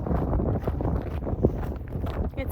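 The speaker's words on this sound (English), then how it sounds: "It's windy." Wind buffets the microphone outdoors during an evening walk, a low rumbling roar that gusts unevenly, with faint footsteps and small knocks underneath.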